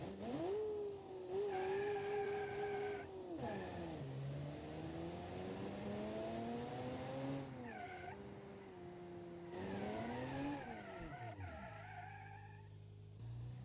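A flat-plane crank 7-litre V8 of about 500 horsepower in a racing video game, revving loudly with a sharp, rising and falling howl that climbs, holds and drops through several gear changes, with no talk.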